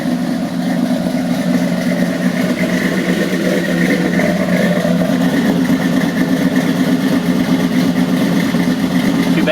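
A car engine fitted with a Comp 480 camshaft and 1.6-ratio rockers runs at a steady, loud, lumpy idle close by, without revving.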